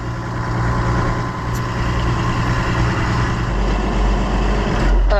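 An Allis Chalmers 200 tractor engine runs steadily while driving, a loud continuous low rumble that holds even throughout, with no talk.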